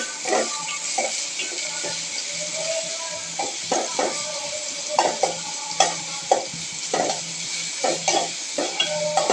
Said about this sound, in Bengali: শুরুতেই তেল আর পেঁয়াজ ভাজা করছে সামান্য পরিমাণ ভেজে নিচ্ছে নাড়াচাড়া করে